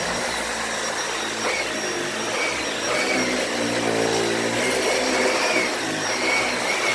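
Dyson Ball Animal 2 upright vacuum cleaner running over super fluffy carpet, a steady loud motor whine and airflow roar with slight shifts in pitch as it moves, alone without voices.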